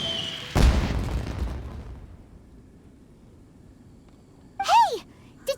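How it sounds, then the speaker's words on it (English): A single deep video-game explosion booms out, then its rumble fades away into quiet; a short voice exclamation follows moments later. "Did you hear that explosion? Maybe it was fireworks."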